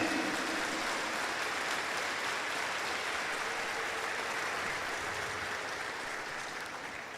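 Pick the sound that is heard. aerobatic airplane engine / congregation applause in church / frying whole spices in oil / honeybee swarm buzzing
congregation applause in church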